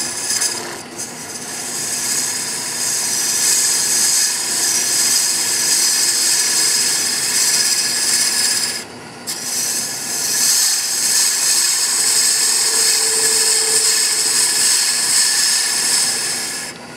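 A detail gouge scrapes wood turning on a lathe, giving a steady, close rasping hiss that breaks off briefly about halfway through and then resumes. No voices are heard.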